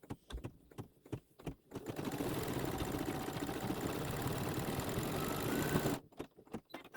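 An embroidery sewing machine stitches a light purple highlight onto an ink jar design on a Santa's Workshop quilt block, humming in a dense, fast, even run for about four seconds between softer ticking sounds.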